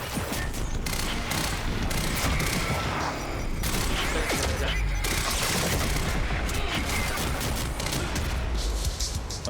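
Dense, continuous gunfire from the video game Quantum Break, with rapid overlapping shots and heavy booms sustained loudly throughout amid chaotic combat noise.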